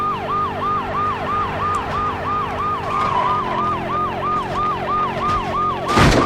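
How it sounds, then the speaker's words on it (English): A police car siren in the N64 game Road Rash 64 wails in a fast, regular up-down cycle, loud and steady over engine hum, ending in a sudden crash burst. "Oh, that's a police car."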